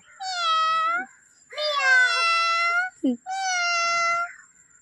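A voice imitates a cat, giving three drawn-out meows with a short gasp between the last two, close and clear.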